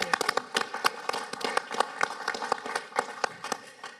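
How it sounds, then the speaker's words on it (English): Meeting audience of the Board of Deputies clapping, a moderate round of hand claps in an irregular patter, fairly close and not very dense, tapering off toward the end, without talk over it. "Another clap."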